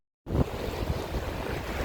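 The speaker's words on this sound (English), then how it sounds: "I'm standing in the water here in Inverloch Beach" Low-tide ocean waves at Inverloch Beach wash and rumble steadily after a sudden start, with wind buffeting the microphone close by.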